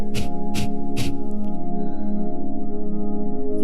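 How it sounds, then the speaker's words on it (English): Three quick, forceful nasal exhales of Kapalabhati fire breathing during a yoga workshop, sharp puffs in the first second over a steady background music drone that carries on after the breaths stop. "This is done by forcefully breathing out of your nose as you pull your abdomen"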